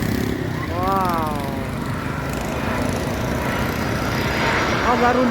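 A Garuda airliner lands at Soekarno-Hatta airport, heard as a steady, loud, broad engine roar close by, with a person talking over it.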